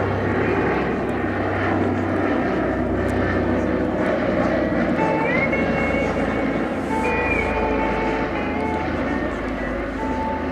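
A Consolidated PBY Catalina flying boat drones past at an air show, its propeller engines giving a loud, continuous throbbing roar. Someone narrates in French over it throughout.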